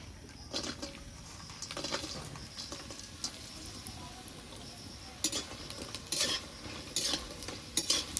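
Homemade lentil bori dumplings fry with whole spices in a pan, a steady soft sizzle under intermittent scraping and clinks of a spatula stirring, quiet and close, with louder stirring bursts toward the end.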